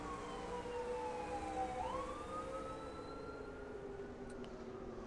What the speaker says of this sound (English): I don't know what that siren's for